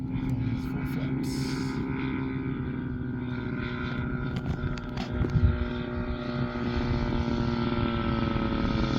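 A giant-scale F8F Bearcat model airplane drones steadily with its propeller as it comes in to land on a light headwind. The sound is moderately loud and even throughout, with someone talking over it.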